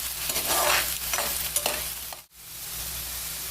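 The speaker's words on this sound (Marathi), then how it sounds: "कांदा लागू नये म्हणून मी सतत परतते" Onion sautéed in a pan for prawn masala, a close, steady sizzle with brisk scraping stirs in the first half, then a brief dip before the frying hiss settles in evenly.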